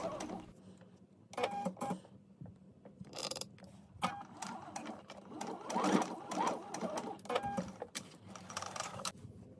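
A sewing machine stitching a dart in a skirt, a close, rapid mechanical whirring in several bursts separated by short pauses.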